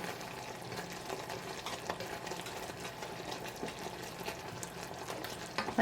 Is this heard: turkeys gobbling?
no